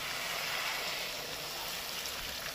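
Water pours into a pan of spiced potatoes for rui fish curry, a continuous close hissing rush lasting a few seconds.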